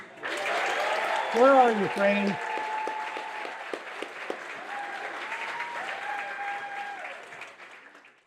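An audience at a Doctor of Physical Therapy white coat ceremony claps for an honoured staff member: steady, full applause fills the whole stretch, with a voice speaking briefly over it near the start.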